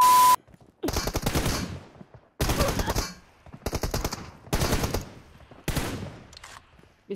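Gunfire in the mobile battle-royale game PUBG Mobile, with five loud automatic bursts, each lasting about half a second, separated by short pauses and heard alone at close range.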